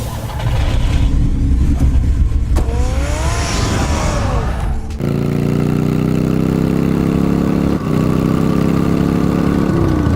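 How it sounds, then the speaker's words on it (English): Car engine revving up in the Batman Telltale video game, a loud, sustained engine roar with a rising pitch sweep midway, then settling into a steady heavy idle-like drone under game ambience. "Get the car ready, Alfred."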